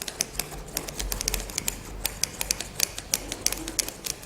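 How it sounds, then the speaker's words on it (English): Shears clip the rough pile of a hand-knotted rug to an even height, producing quick, crisp snips in an uneven rapid series, close and fairly clear over a faint background rustle, with no talking. "the rough, uneven pile, which must be trimmed to a consistent height"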